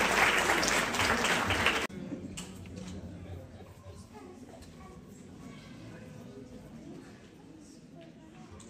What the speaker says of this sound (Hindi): आप सबकी भरपूर तालियों में